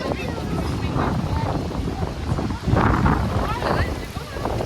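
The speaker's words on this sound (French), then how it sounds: "il y a du vent là" Wind buffets the microphone in loud, gusty rumbles that rise and fall in Morocco's Ourika Valley, with voices in the background.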